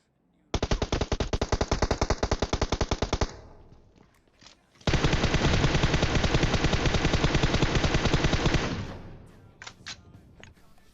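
Rapid automatic gunfire in the mobile game PUBG Mobile comes in two long, loud bursts of tightly spaced shots, the second longer, followed by a few scattered softer pops.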